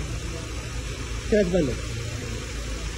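A Renault-built Dacia engine with a vibration problem idles with a steady low hum throughout, while a voice briefly speaks over it.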